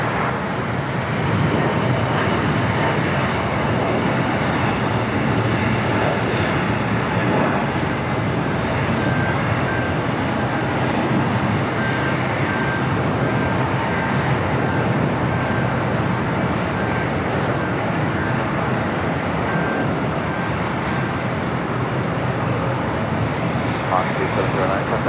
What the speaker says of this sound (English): we got the United Dreamliner, next arrival, 25 left.